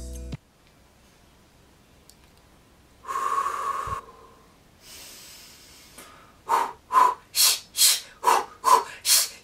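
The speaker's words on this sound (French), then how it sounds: "Mais tu te donnes aussi des techniques de respiration." Breathing exercise: a long hissing exhale, a softer second breath, then a steady run of seven short, sharp, forceful nasal breaths in even rhythm, close and fairly loud, with no talking.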